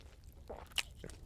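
A deer burger with bacon and jalapeños gets a single crunchy bite followed by a couple of soft, faint chewing sounds, close-up and quiet with no talking.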